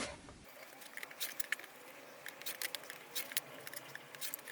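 Quilt fabric blocks being cut with scissors or a rotary cutter: quiet, irregular snipping clicks close by, spread across a few seconds with no talking.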